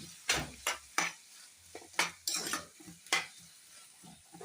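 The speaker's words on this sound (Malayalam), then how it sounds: "നല്ലോണം വറക്കാം." Onions and curry leaves frying in a pan, with sharp metallic scrapes and knocks of a spoon against the pan in an uneven rhythm over a faint sizzle, close and fairly quiet with no talk.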